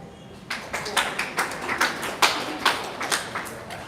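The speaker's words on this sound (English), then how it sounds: "Can you clap for Hassan?" A small live audience at a wellness company event claps for a presenter named Hassan, producing a rhythmic series of roughly a dozen distinct, fairly close hand claps in a steady beat, without talk.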